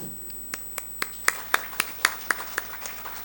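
At an annual day event, a few hands clap to greet dignitaries, sharp separate claps in a steady rhythm, about a dozen over three seconds, close and clear against a quiet room.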